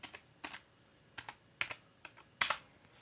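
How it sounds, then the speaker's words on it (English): Fingers typing on a computer keyboard during Windows setup on a PC, a few quiet, sparse clusters of key clicks with pauses between words. "and then we'll type setup."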